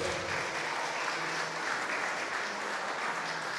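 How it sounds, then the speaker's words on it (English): Steady, even applause from a church congregation greeting visitors, a dense wash of clapping with no voices over it, held at an even level throughout. "Let's give a round of applause for our visitors."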